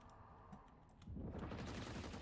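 Rapid gunfire in a tactical shooter game, quiet and distant at first, then a dense sustained barrage of automatic fire filling the second half, no speech.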